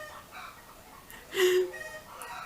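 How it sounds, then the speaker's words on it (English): Chickens squawking and clucking at a distance, with one louder burst of alarmed squawks in the middle. "All of the chickens are screaming right now."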